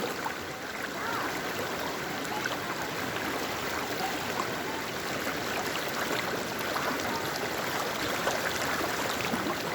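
Cold stream water near the Umpqua Hot Springs rushes steadily over rocks, a constant broadband wash, close and fairly loud, with no voices over it.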